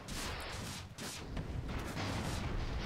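Airship guns fire a dense, continuous barrage in the video game Airships: Conquer the Skies, a loud rumbling roar of overlapping shots with no gaps and no talking.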